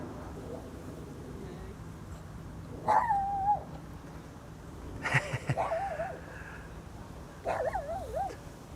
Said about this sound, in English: the doggo is making a little noise